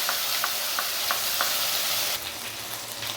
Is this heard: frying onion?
yes